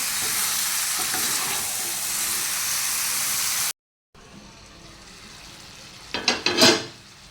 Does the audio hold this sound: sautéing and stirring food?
yes